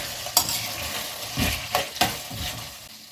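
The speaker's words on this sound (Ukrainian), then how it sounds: "Все добре обсмажуємо" Pork belly and kohlrabi sizzling and frying in a pan, with a few sharp scraping stirs of a utensil breaking up the steady hiss.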